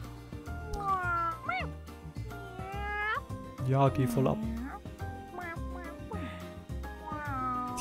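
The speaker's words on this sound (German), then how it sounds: "Lästiges Kätzchen." Cat meowing in the video game D4: Dark Dreams Don't Die, several close, drawn-out meows and a caterwaul in a steady sequence over game music, with someone talking briefly.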